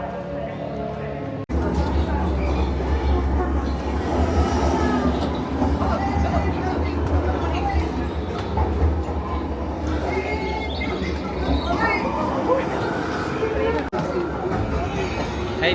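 A train rumbles past steadily with a low, continuous roar and rattling, while people chatter in the background.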